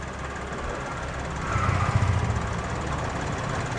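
A Suzuki Karimun Wagon engine idles smoothly up close, a steady even hum with a slight rise in loudness midway and no knocking or rattling.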